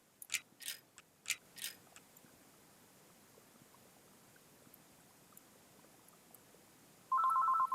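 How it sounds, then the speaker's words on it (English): A telephone rings in a car-repair simulation game, its electronic trill starting abruptly near the end after a few sharp mechanical clicks and a quiet stretch. "Oh crap, phone."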